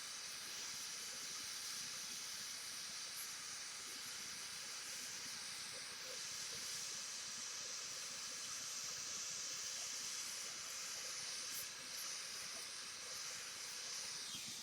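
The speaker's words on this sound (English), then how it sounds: "this is my Smith Little torch. I'm going to melt this piece of metal here." Smith Little torch flame melting a piece of metal: a steady, close, breathy hiss of burning gas, continuous and even throughout.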